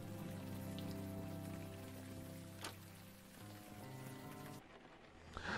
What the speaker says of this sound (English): God, the rain effect is so cool.